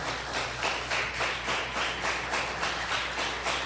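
A church congregation applauding during a sermon, dense rhythmic clapping from many hands at a steady, pulsing pace, moderately loud and sustained without speech.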